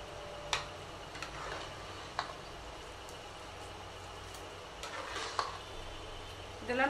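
Milk stirred into mashed curd rice: soft, wet scraping and squelching with scattered sharp spoon clicks against the vessel, close and fairly quiet, no voices.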